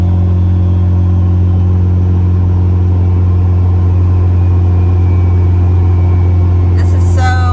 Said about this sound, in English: It's going on its first cruise with the new motor. We put in a B18B, non-VTEC, unfortunately, but she's still gonna rip.